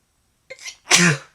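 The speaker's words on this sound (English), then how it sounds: "I'm going to have to sneeze." A single loud sneeze preceded by a short sharp intake of breath, close to the microphone, with silence around it.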